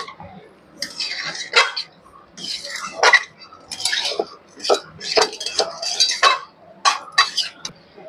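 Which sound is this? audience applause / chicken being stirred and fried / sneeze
chicken being stirred and fried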